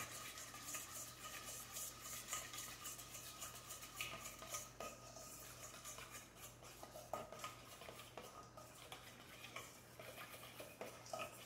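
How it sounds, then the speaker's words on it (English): A whisk stirs homemade apple cider vinegar in a bowl, making quiet, quick, steady clicking and scraping with no voices. "I'm gonna give it a whisk."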